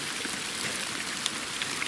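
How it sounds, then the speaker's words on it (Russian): Hail pelts a mountain forest in Altai, a dense, steady hiss of countless small impacts with occasional sharper ticks, loud and unbroken throughout. "под град попали"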